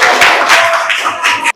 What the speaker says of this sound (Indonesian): Kita baru tepuk tangan dulu